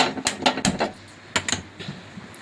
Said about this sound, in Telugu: తర్వాత మనము స్టవ్ ఆన్ చేసుకొని